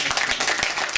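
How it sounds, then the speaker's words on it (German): Audience applause at a live disco show, a short burst of crowd clapping that fills the moment, fairly loud and steady with no voices standing out. "Könnt ihr ihm mal kurz einen Applaus schenken?"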